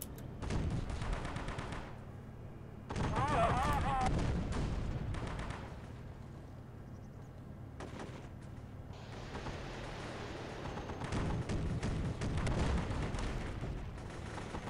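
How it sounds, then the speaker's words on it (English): An artillery strike in the video game Warfare brings a rolling series of heavy booms and rumbling blasts that keep going across the whole stretch, with short quieter gaps between loud bursts, and no speech. "And now they will die to artillery strike."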